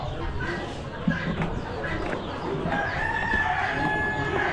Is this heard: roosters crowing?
yes